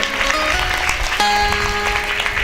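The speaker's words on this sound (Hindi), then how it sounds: "जोरदार तालियां बजाएंगे।" Audience applause at a Bhagavat religious gathering, loud sustained clapping from a crowd, heard alone with musical tones underneath.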